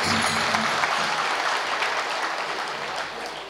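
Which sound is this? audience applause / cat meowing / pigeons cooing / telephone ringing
audience applause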